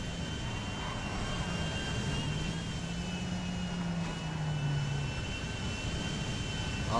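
A steady jet engine roar in the video game GTA 5 hums continuously with a faint high whine above it, and the pitch drifts slowly upward and back down.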